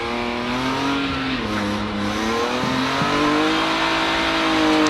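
A BMW M3 rally car engine revs hard and steadily on a circuit, with tires squealing as it drifts, continuous and close, no voices.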